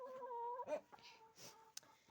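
Chickens in a backyard give faint, soft clucks and a drawn-out whining call, with a few sharp brief noises nearby in an otherwise quiet evening yard.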